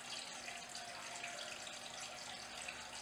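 Water sloshes and trickles steadily in a bowl as bratwurst casings are rinsed, a soft, even splashing that runs close and unbroken without any talk.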